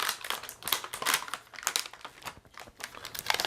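Close, uneven crinkling bursts of plastic film being pulled away from an NVIDIA RTX 2060 Founders Edition graphics card during unboxing, with no voices.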